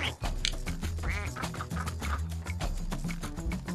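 Rapid cartoonish duck quacks from the video game Rayman Legends, repeated loudly in quick succession over busy game music and effects.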